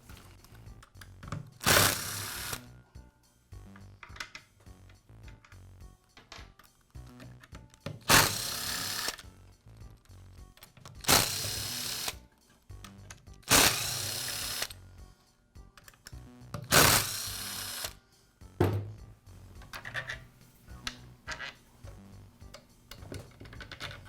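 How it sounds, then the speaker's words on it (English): A power screwdriver whirs in five loud bursts, backing screws out of the motor housing and lower handle of a DeWALT circular saw, with small clinks and handling noises between runs. "Now remove the screws that secure the motor housing and the lower handle."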